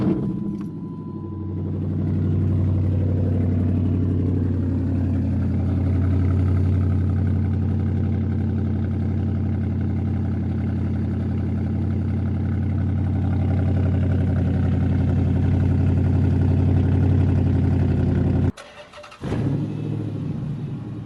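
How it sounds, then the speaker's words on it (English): An SRT8 car's engine cold-starts after a week sitting unused, then settles into a steady, loud, rumbling idle that runs on for many seconds with a brief dip near the end. "here's a cold start of the car after a week of not driving it"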